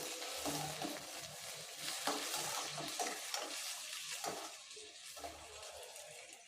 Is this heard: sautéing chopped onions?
yes